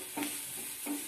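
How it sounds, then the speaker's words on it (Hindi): Turmeric, coriander powder and garam masala roasting in a pan for a leftover-roti snack, with two brief scraping stirs and a soft steady sizzle underneath, close and quiet. "मेरा मसाला भी भून गया"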